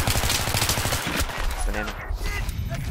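Rapid video game gunfire on the Bazaar map during a 32-versus-32 team match, dense bursts of shots throughout, with voices talking over the shooting.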